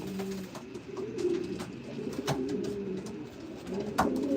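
Pigeons coo softly and repeatedly inside a loft, low rolling calls layered over one another with faint scattered chirps and light rustling, no talking.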